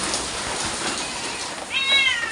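A single cat, a well-fed pet sheltering during Cyclone Remal, gives one short meow near the end over a soft steady background hiss.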